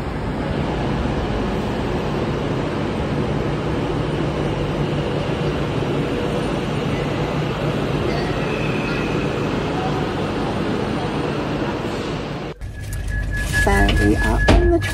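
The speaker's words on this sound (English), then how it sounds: "We are on the train now." Steady rumble and rattle of a moving passenger train heard from inside a carriage, constant and close, with a louder shift in the rolling noise near the end.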